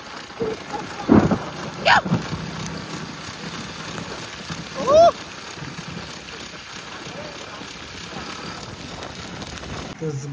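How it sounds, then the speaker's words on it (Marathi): Heavy rain pours outdoors in a steady broadband hiss, with a few brief louder bursts and rustles standing out from the constant downpour. "भरपूर भिजलोय आणि भरपूर मोठा पाऊस पडतोय"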